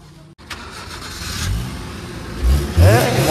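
A used car's engine revs up in a few short bursts close by, building to a louder rising rev at the end, with no talking.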